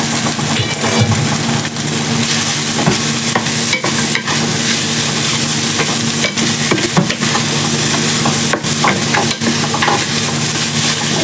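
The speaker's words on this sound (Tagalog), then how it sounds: "Fry ko naman yung sayote at carrots." Chayote and carrots fry in a pan with a loud, continuous sizzle and occasional stirring scrapes, close up with no voices.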